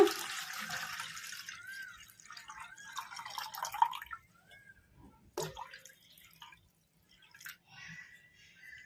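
Water pours and splashes into a pot for raw tamarind rasam, a bubbling gurgle that thins into scattered drips and small trickles, close by.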